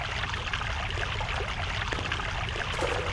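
Steady flowing water rushes continuously and softly in Prince of Persia: The Sands of Time, an even wash with no other sounds.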